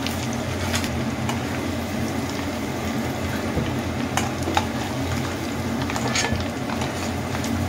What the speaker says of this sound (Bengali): অল্প কয়েকটা আলু দিয়ে একটু আলুটাকে লাল লাল করে ভেজে নেব।